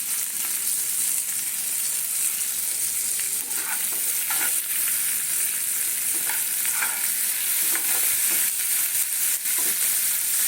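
Tomatoes with salt frying and being stirred in a pan, a steady loud sizzle with scraping spatula strokes recurring every second or so, close and alone without talk.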